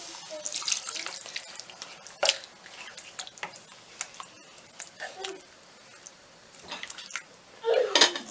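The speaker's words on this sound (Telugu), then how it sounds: "ఇందులో కొంచెం వాటర్ పోసుకొని 1 గ్లాస్ వరకు" Water is poured into a cooking pot while making chicken curry, with intermittent splashes, clinks of utensils and a louder burst of pouring near the end, fairly close.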